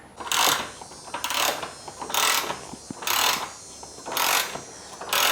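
A ratchet wrench loosens the 10 mm bolts on a Toyota Corolla's reservoir box, sounding as five regular rasping clicking bursts, close and fairly loud, with no talking.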